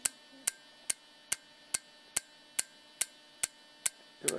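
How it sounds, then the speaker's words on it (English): A 12-volt relay pulsing in a hydrogen tap circuit gives sharp, evenly spaced clicks, about two per second, close and clear over a faint hum, with a brief rustle at the very end. "what we've got here is a 12-volt relay."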